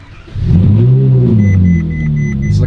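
A Ferrari 458 Italia engine cranks and fires up close and loud, settling into a steady deep idle with a faint electronic chime above it.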